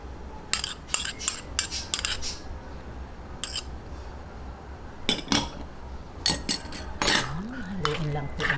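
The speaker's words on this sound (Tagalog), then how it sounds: "Ayan, ngayon naman po, i-mix natin tong egg." A utensil clinks against a bowl as beaten egg is mixed, in short bursts of quick metallic taps over a steady background hum, with a voice briefly heard near the end.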